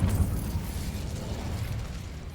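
Incendio fire spell cast in the Hogwarts Legacy video game, a dense, loud, rumbling burst of flame with crackling texture that holds steady for about two seconds, with no voice over it.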